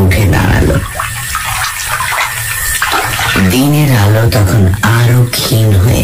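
Water splashing as someone washes their face at the edge of a pond, loud splashy gushes at first, then a narrator speaks over quieter water.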